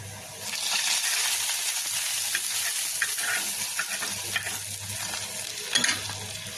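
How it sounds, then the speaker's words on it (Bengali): Frying in a pan until browned, a steady close sizzle with intermittent stirring scrapes, sharper clatters near the end, no voices. "এই যে আমি বাদামি করে ভেজে নিচ্ছি"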